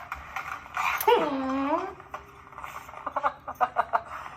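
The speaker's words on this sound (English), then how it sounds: "one thing I have now that I did not have a year ago is my little pooch puppy Shark" A puppy whimpers and yips up close in a quiet room, with a single drawn-out whine around the middle followed by a few short, soft yelps near the end.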